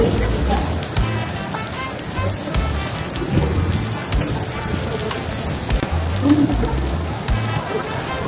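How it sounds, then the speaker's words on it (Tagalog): Heavy rain pours steadily and close by in Baguio City, Philippines, a dense continuous patter with a low rumble underneath and occasional voices. "Ang lakas ng ulan!"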